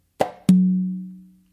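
On a tumba conga, a sharp close slap is followed a quarter-second later by a resonant open tone that rings out and fades over about a second, played alone and up close.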